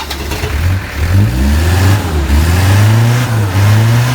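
A camper van engine with a broken-off exhaust, still cold, revs up repeatedly close by, the pitch climbing and dropping in several surges before holding a higher, steady whine.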